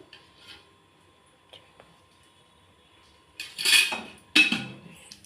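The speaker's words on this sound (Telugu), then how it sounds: "ఇలా చిన్నగా ముక్కలు కట్ చేసుకోవాలి." A knife cuts capsicum into small pieces on a kitchen board: faint scattered taps at first, then two louder, close scraping chops near the end.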